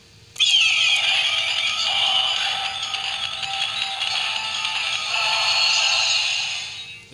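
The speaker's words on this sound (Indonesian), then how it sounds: "dan ini suaranya ini suara gamelan ya" Gamelan-style electronic sound effect from a Satria Garuda Bima-X DX toy changer: a bright, continuous jangle of metallic tones from a small speaker that runs loud and alone for about seven seconds.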